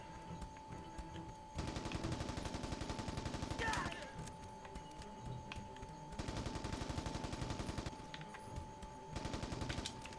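Rapid automatic gunfire in the video game Mercenaries 2, sustained bursts of dense rattling shots that start and stop over a steady game backdrop with a constant tone, loud and continuous.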